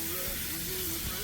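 Steak sears in melted butter in a hot pan, giving a steady, close, continuous sizzling hiss throughout.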